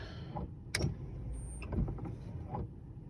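An OBS Chevy truck's windshield wipers running on the mist setting after a wiper control board replacement: a few short, close mechanical motor whirs and sweeps spaced about a second apart over a low idle hum.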